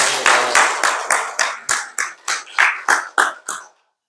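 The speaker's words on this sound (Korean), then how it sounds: "박수로 축하합니다." Rhythmic group clapping from a congregation at a Korean church's Sunday worship in Venice, Florida, celebrating an honorary deaconess: about a dozen sharp, evenly spaced claps, close and crisp, then silence.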